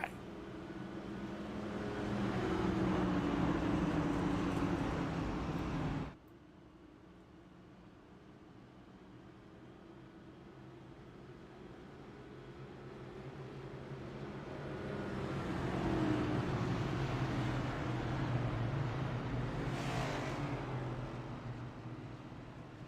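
Simulated race cars in iRacing run at Charlotte Motor Speedway as a droning engine hum. It cuts abruptly to a quieter bed, then swells again as the field builds speed, with no talk.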